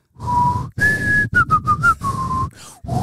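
A person whistles the E.T. film theme up close, with sustained notes and a quick run of shorter notes in the middle.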